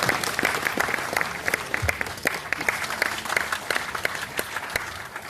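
Audience clapping at a live speech event, a dense, steady wash of many hands lasting about five seconds, fairly close and even in loudness with no talking over it.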